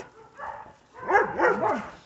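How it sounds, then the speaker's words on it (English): Puppies barking and whimpering while out in snow for the first time, a few short yips and whines in two bursts, fairly close and moderately loud. "Puppies!"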